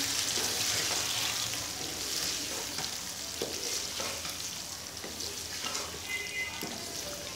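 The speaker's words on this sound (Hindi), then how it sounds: "अब मैं डाल दूँगी इसके अंदर हाफ पैकेट क्रीम और हम करेंगे इसको मिक्स।" Cream stirred into sizzling ghee in a karahi while making white chicken karahi, a steady close frying sizzle with soft scraping stirs throughout, no talking.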